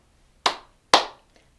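Two crisp hand claps sound close and loud about half a second apart, followed by a faint tap, in an otherwise quiet children's action-song setting.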